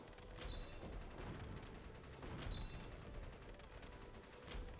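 Gunfire in a tank war video game: continuous crackling rapid fire and scattered booms fill the whole stretch at a faint, distant level, with a couple of louder shot clusters standing out.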